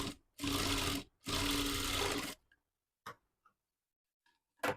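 Sewing machine stitching the cloth of a designer bow, two loud, close bursts of rapid whirring stitching separated by a short pause, followed by quiet with a few faint clicks and handling taps.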